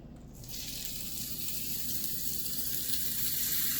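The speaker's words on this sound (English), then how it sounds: "I'm going to start dropping them all into my skillet" Homemade pork breakfast sausage patties dropped into a hot skillet set up a loud, continuous sizzle that swells and holds steady.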